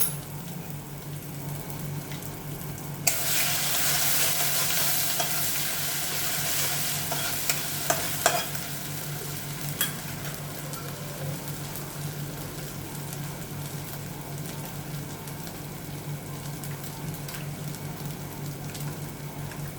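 Whole cumin and fennel seeds hit hot oil and set off a bright, crackling sizzle that flares up, then settles into a soft, steady frying hiss, with a few light clicks from stirring.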